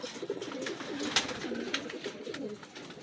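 Racing pigeons cooing in a repeated run of soft, rolling low coos, fairly close, with a sharp brief noise partway through and faint background sounds.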